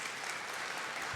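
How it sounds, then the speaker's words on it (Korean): Congregation in a cathedral applauding the church choir during a Sunday service, a soft, even patter of clapping heard at a distance and fairly faint. "우리 성가대원들 위해서 박수 한번 쳐주실까요?"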